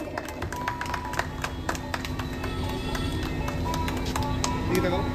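Audience applause at a Sharad Samman exhibition award event: a dense, steady patter of many hands clapping at moderate distance, continuing throughout, with a murmur of voices underneath.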